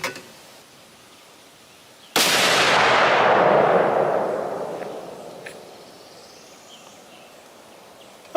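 A single loud rifle shot goes off at close range during rifle test-firing, a sharp crack followed by a long rolling echo that slowly fades over several seconds.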